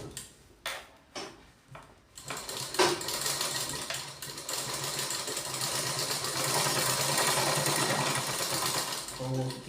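Sewing machine stitching a double katori blouse, a steady continuous machine whir running through most of the stretch after a few short bursts at the start, close and fairly loud.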